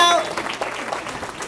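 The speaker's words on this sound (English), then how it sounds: "Let's give our mayor a round of applause." An audience applauds the mayor at a Women's History Month celebration, a steady wash of clapping that starts loud and eases slightly, with a voice speaking over it.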